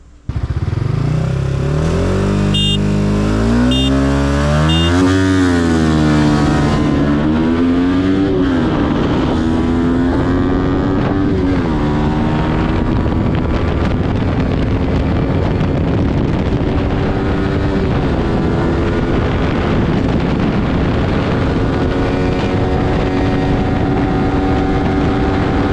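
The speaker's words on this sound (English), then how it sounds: "my bike keeps up really close to an RC200, and on the top end is faster than an RC200" A Yamaha R15 V4 motorcycle fitted with a 190cc big bore kit and dyno tuned, racing an RC200: loud, continuous high-revving engine with rising and falling pitch through gear changes, heavy wind noise over it.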